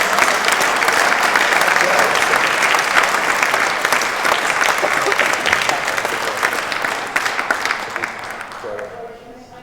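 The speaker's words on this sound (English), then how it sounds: "You can carry on applauding now then" An audience at an awards ceremony applauds award winners with dense, sustained clapping that holds strong, then slowly thins and fades toward the end.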